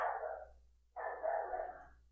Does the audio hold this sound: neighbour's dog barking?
yes